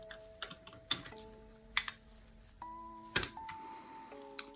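Keystrokes on a WASD VP3 mechanical keyboard, a Vortex Poker 3 based board in Programmer Dvorak layout, come as a handful of sharp, separated clicks at close range, with faint background tones and no talk.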